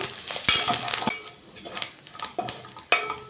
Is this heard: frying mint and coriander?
yes